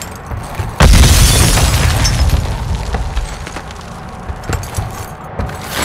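A planted bomb explodes in a video game with a sudden loud boom that stays dense and rumbling for several seconds before easing slightly, with scattered crackling debris throughout.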